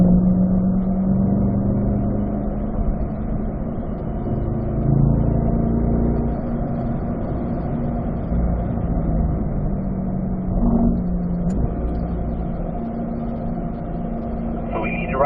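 A car engine drones steadily at speed on a race track during a practice day, with braking and a downshift to third gear into a corner; a steady, loud engine note continues throughout under occasional talk.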